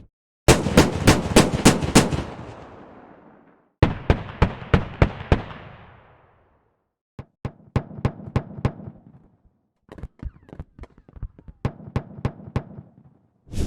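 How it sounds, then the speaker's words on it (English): The ASLAV armoured vehicle's main gun in the game Squad fires in several rapid bursts of sharp, booming shots. Each burst trails off with a short echo, and brief pauses separate the volleys. "Now let's listen to how the main gun sounds on the ASLAV."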